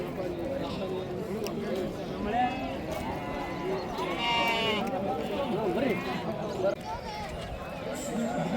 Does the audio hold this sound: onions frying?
no